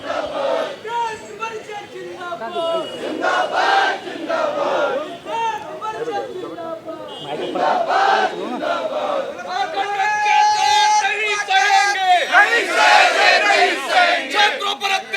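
A crowd of protesting students in Lucknow chants slogans in loud, rhythmic unison, with voices swelling in repeated phrases close by and growing stronger toward the end.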